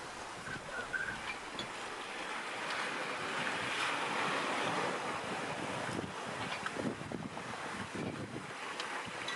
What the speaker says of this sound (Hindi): वह हवा का झोंका है।